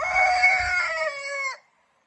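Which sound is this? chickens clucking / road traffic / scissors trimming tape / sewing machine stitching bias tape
chickens clucking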